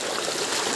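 Natural water pours steadily at a waterfall, a dense continuous rushing wash close by with no other sounds.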